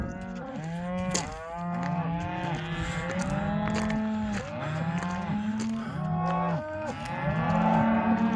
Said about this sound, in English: That was very coincidental timing for the farmer feeding these cattle.